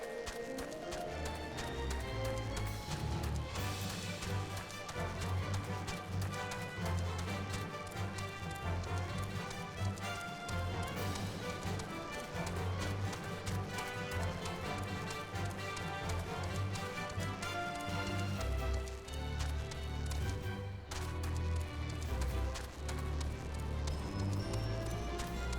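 Chocobo footsteps in Final Fantasy XIV, a steady run of rapid clip-clop beats under loud, continuous game music with deep bass.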